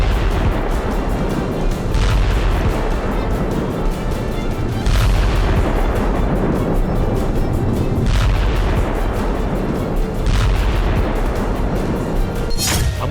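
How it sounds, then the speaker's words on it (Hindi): A missile strike on a power plant in Belgorod: heavy booming blasts roll out over a continuous dense rumble, with several sharp bursts spaced a few seconds apart, loud and close. "अचानक गरजती हुई एक मिसाइल बेलगोरोद के पावर प्लांट पर गिरी और जोरदार धमाका"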